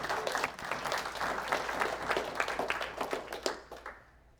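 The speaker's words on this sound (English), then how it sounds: "A huge applause for him." An audience applauds at a capstone game presentation. Dense, steady clapping from a crowd lasts about four seconds, then thins out and fades.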